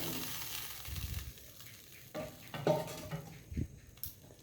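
Fish and potato curry with spices sizzling and frying in a pan, a steady close hiss with bursts as pieces are stirred or added, no talking.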